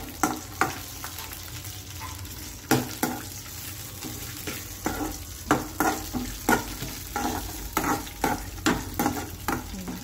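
A spoon stirs and scrapes in a pan while boondi fry for a sweet boondi payasam, giving sharp repeated clacks over a low continuous sizzle; no one speaks.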